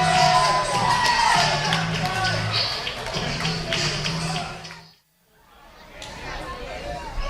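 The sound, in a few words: wrestling event crowd reacting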